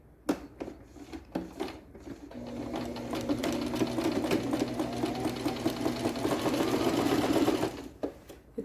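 A sewing machine stitches a beach bag in one steady run of about five seconds, loud and close, with a few clicks and handling knocks before and after.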